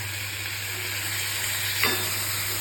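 Chopped tomatoes with a little turmeric sizzle steadily in hot oil in a pan, a close, continuous hiss with one brief scrape of stirring near the end.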